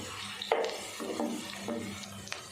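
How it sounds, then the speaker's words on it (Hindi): Finely chopped onion frying in half a cup of hot ghee in a cooking pot, with a soft steady sizzle and a few clinks and scrapes of a stirring spoon against the metal. "प्याज को हमने अच्छे से फ्राई कर लिए"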